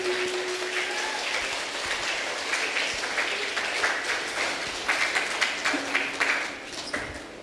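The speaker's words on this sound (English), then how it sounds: "let's give them a nice round of applause, loudly" A school assembly audience claps steadily in a sustained round of applause from many hands. The clapping swells slightly toward the end, then fades off.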